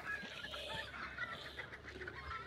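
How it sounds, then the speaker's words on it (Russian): Roosters in the game Hunt: Showdown cluck and squawk continuously at low volume, a busy layered fowl chatter with no talk over it. "Петухи, горлопанят."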